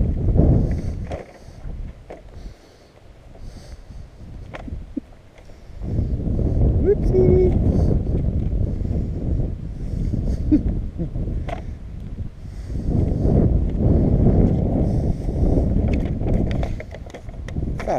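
Wind gusts on a city street buffet the microphone in loud, low rumbling surges, easing off for a few seconds before rising again. A person talks over the wind throughout.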